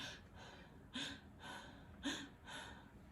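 A voice imitates short staccato breaths, several quick sharp inhales and gasps in an uneven rhythm, close and soft with nothing else heard.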